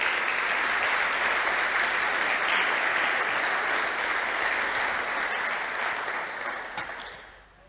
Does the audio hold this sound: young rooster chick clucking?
no